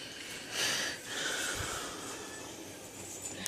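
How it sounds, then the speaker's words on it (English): A pet cat purrs close by, a soft, rough, rumbling drone with gentle pulses of breath that swells and eases over a few seconds. "That's purring."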